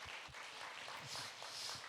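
Applause from a church congregation during an autumn evening revival meeting, a steady wash of clapping that lasts the full two seconds with no speech over it.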